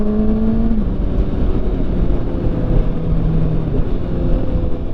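A Kawasaki ZX6R motorcycle engine revving hard and continuously at high rpm throughout, loud and close, with a steady droning whine and no talk.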